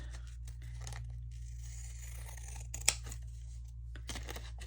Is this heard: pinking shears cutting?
yes